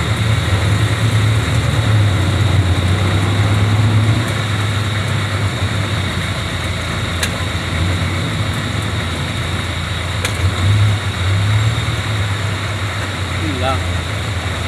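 Street traffic in Malabon, a steady low engine rumble of idling and passing vehicles that fills the whole stretch, with a few brief sharper noises.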